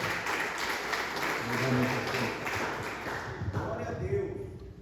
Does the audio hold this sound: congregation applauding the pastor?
yes